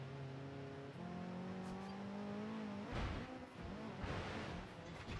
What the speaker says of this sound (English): I'm going to drive across the sand and water because I can